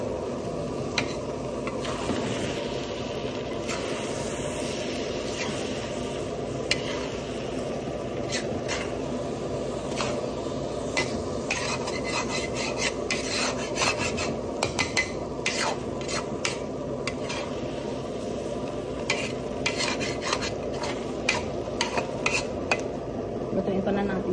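Eggs are stirred in a metal pan with steady scraping and clinking of a utensil against the pan over a soft sizzle, continuous and close, with faint voices now and then.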